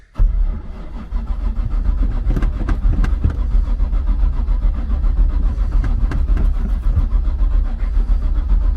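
A small engine, likely on auction equipment, cranks repeatedly in cold weather and struggles to catch, a steady loud churning rumble with a few sharper bursts throughout, no talking.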